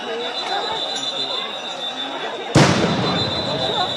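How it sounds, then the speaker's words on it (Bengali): A grenade bursts with a sudden sharp blast during a street clash between protesting students and another group, loud and near, amid a constant crowd murmur and an ongoing high whine. "গ্রেনেড নিক্ষেপ হলো"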